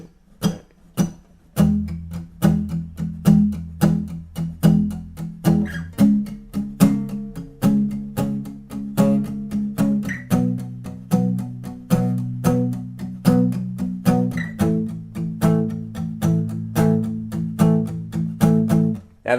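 Acoustic guitar strummed with palm muting through a pop verse chord progression, steady driving rhythm of short damped strokes with accents, close and alone.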